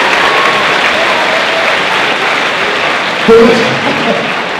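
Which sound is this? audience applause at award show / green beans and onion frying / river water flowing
audience applause at award show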